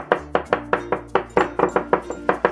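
A kitchen knife chops rapidly on a cutting board, mincing beef for a stir fry with bitter melon and black bean sauce; about a dozen sharp, evenly spaced close-up knocks fall in a steady rhythm with no talking.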